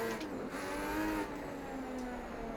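Engine of a racing car in Project Cars 2 revving steadily and accelerating hard, a continuous loud drone with rising tones, alone without talk.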